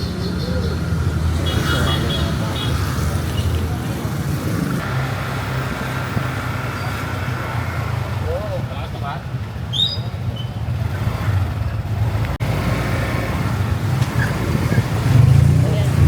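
Steady low road rumble of traffic near a highway exit, with engines droning continuously and occasional passing vehicles, heard from inside a moving car with talk over it.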